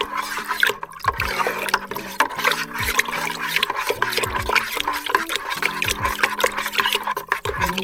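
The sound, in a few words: stirring homemade wine must in a container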